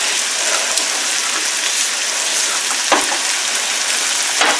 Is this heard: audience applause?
no